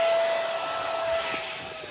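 Small BAE Hawk model jet with a 50mm electric ducted fan at full throttle, a loud steady high whine with a faint hiss, easing off slightly toward the end.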